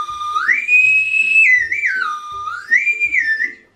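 A strawberry-flavored candy whistle gives a loud, shrill, steady tone of several sustained notes that bend and glide in pitch, with a faint low rhythmic thump running beneath it.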